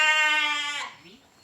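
A single loud, close bleat from a sheep among a flock with lambs, a clear wavering cry that fades out after about a second.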